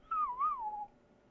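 A human voice whistles in imitation of a nightingale, a single clear warbling note that wavers up and down for under a second before fading, alone in a quiet room.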